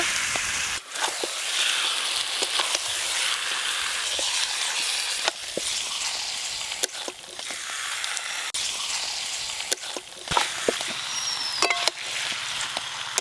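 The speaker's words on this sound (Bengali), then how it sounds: "এবার ধুয়ে রাখা মাংসগুলো দিয়ে ভালো করে কষে নেব।" Chicken pieces sizzling and frying with spices in a pan for village-style chicken curry with sweet potato, a steady loud hiss broken by scattered clicks and stirring knocks, with no talking.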